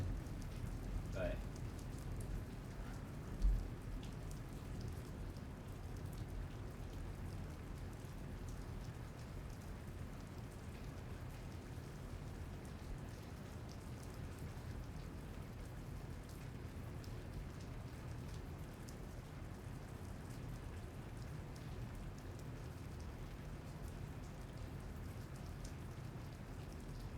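Rain falls steadily during a lightning storm, a constant soft hiss on surfaces over a low rumble of distant thunder, with one brief sharp knock early on.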